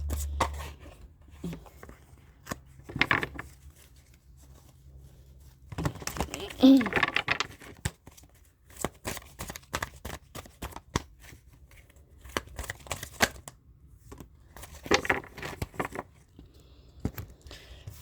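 Tarot cards are shuffled and handled in quick bursts of crisp riffling and soft slapping, separated by quieter pauses, close to the listener with scattered light taps between.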